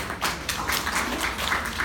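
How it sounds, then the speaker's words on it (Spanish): Students in a medicine class clapping for a classmate, a brief burst of close, uneven applause from a small group, with soft tapping and a faint murmur underneath. "aplauso para su compañero"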